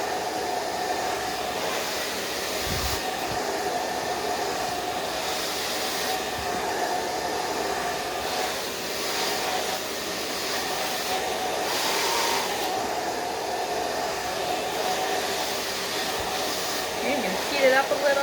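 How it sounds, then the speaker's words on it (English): A blow dryer runs continuously at close range while a brush works through the hair, a loud steady whoosh with slight swells as the dryer moves. "keeping the blow dryer and the brush moving at the same time"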